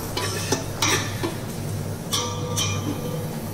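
Garlic is stirred as it sautés in a pan for mussels, with scattered spoon clinks and scrapes against the metal over a faint sizzle and a low background hum.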